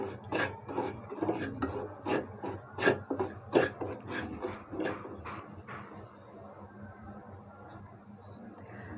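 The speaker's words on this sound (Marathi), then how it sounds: "सतत हा रवा आपण मिक्स करून घ्यायचा आहे, जेणेकरून पॅनला हा रवा चिकटला नाही पाहिजे." A spoon scrapes and rubs through semolina (rava) in a pan, making rhythmic gritty strokes that fade after a few seconds, close by.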